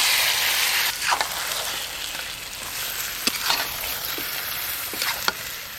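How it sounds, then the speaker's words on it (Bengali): Washed, cut meat sizzles and fries in spice masala in a pan, a steady close crackle with occasional sharper spits and stirring scrapes. "কেটে ধুয়ে রাখা মাংস দিয়ে দেব।"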